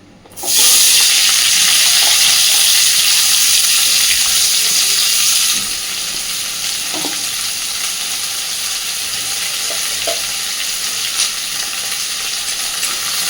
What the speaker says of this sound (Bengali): এইবার এই তেলের মধ্যে বেশ খানিকটা পেঁয়াজ দিয়ে দিচ্ছি।